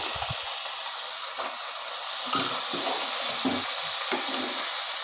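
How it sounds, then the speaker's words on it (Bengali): Peas sizzle as they are sautéed with spices in a pan for ghugni, with a steady frying hiss and intermittent stirring scrapes and clinks of the spoon against the pan. "মটরগুলো দিয়ে খানিকক্ষণ কষিয়ে নেব"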